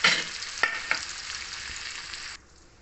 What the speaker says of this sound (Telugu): ఫ్రై చేసుకోవాలి, ఈ ముక్కల్ని ఫ్రై చేసుకోవాలి మనం.